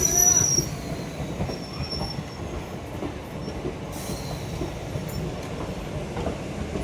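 A small DEMU train arrives at a station with a steady rumble of rolling wheels and high metallic squeals from the rails, fairly close, without talking.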